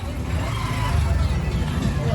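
Busy road traffic in Ayodhya, a continuous low engine rumble and passing vehicle noise with a murmur of crowd babble mixed in, steady from start to finish.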